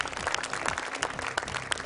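A crowd claps for a young Quran recitation contestant on a televised show, dense even applause with many overlapping hand claps, fairly quiet and heard without talk.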